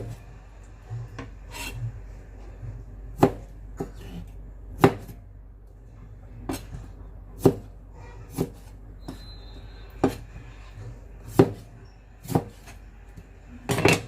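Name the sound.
knife slicing preserved vegetable (zha cai)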